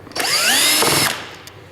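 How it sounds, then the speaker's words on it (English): A power screwdriver drives screws on the air box of a 2015–2017 Yamaha YZF-R1 sportbike, giving one close, loud whirring burst that rises and falls in pitch for about a second, followed by a faint click. "use a power screwdriver here"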